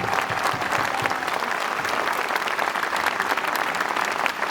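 Crowd applause at a centenary celebration in Nîmes, a dense, sustained roar of many hands clapping at even loudness throughout, with no speech over it.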